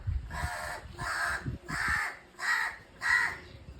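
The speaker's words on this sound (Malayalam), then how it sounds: "നമ്മുടെ കാക്കക്കുട്ടികൾ ബിസ്ക്കറ്റ് കഴിക്കുകയാണ്" Crow chicks caw while eating biscuits, giving five loud, harsh caws in a steady rhythm close by, with soft pecking and rustling underneath.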